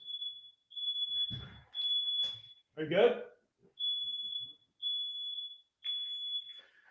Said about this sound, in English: I don't know if you guys hear the alarm.